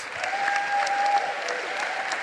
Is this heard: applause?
yes